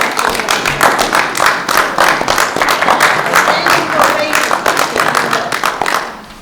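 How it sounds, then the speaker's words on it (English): Applause at a school committee meeting after a unanimous vote, a dense, steady round of clapping from a roomful of people, loud and close for about six seconds before fading. "I would follow that up with a round of applause."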